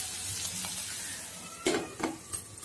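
Broad beans frying in a pan are stirred after salt goes in, with a steady sizzle under it and a few sharp spoon scrapes and clinks against the pan near the end.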